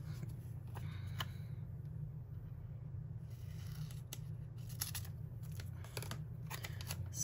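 Scissors snipping through a planner sticker at a desk, a series of short crisp cuts spread across the clip over a steady low background hum.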